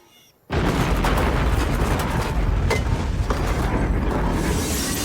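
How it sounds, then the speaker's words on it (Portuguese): After a brief quiet moment, a huge film explosion from a Tremors movie, shot with a high-frame-rate camera, bursts in and roars on as a sustained, dense rumble with crackling debris, loud and continuous. "E é uma das melhores explosões daquela época"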